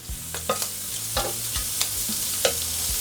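Meat frying in a pan at a home indoor clambake, a steady close sizzle under repeated scraping and stirring taps from a utensil against the pan, no voices.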